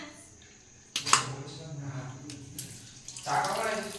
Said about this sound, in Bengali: এবার আমি মাংসগুলো ধোবো